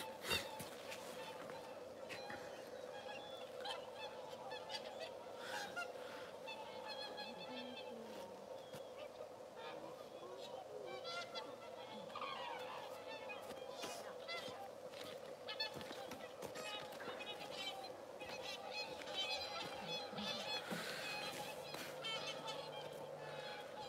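Japanese cranes call at a live outdoor nature site, with scattered honking and trumpeting notes over a constant wash of background noise and faint murmuring voices.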